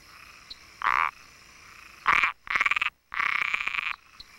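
Hyla raniceps, a large tree frog of the Gran Chaco in Paraguay, gives loud raspy calls: four harsh, buzzy bursts of roughly half a second to a second, near and clear against quiet night background.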